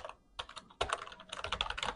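Rapid keystrokes on a computer keyboard while text is entered in Photoshop, a short pause followed by steady bursts of close, clicky typing with no voices.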